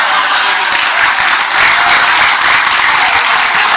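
Applause from an audience at a Gus Dur memorial gathering (haul), dense steady clapping filling the whole stretch at close, loud level with no talk over it.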